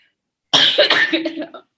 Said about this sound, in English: you don't drink enough water, so you're coughing.